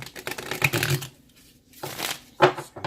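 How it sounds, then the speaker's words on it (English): Bursts of crisp tarot card shuffling, two quick riffling runs separated by a short pause, then a sharp snap of cards settling, close by. "Just give me 1 second here to shuffle your cards"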